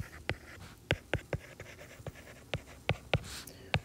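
A pen or marker writes steps for a lesson in quick, sharp taps and short strokes, close and distinct, with no one talking.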